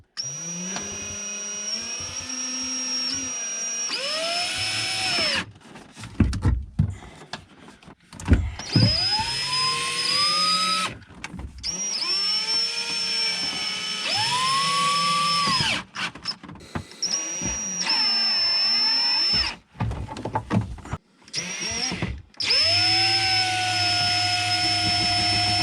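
Cordless power drill driving screws to mount a Power Pole shallow-water anchor pump inside a boat: repeated loud whining motor bursts that rise in pitch as they spin up, separated by short pauses, with no talking.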